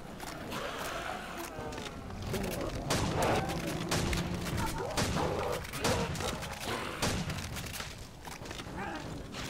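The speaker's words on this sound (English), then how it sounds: "I've got a nuke launcher with me, so I really want to shoot it" A nuke launcher fired in Call of Duty: World at War zombies on a custom castle map, heard as loud booming blasts and gunfire bursts over dense game noise, with players talking throughout.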